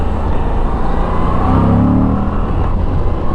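A 2022 Moto Guzzi V85 TT Guardia d'Onore motorcycle with shaft drive roars loud and close. The engine drone rises and shifts in pitch as the rider downshifts, with continuous rumbling throughout.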